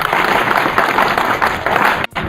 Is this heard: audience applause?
yes